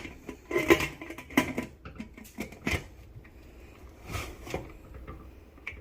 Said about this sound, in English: Place the cooker back onto the stove.